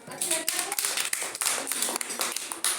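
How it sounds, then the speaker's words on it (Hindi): A group of children clap their hands in a classroom storytelling session, a brisk, uneven run of sharp claps close by with voices mixed in. "ताली बजाओ, अच्छी लगती है।"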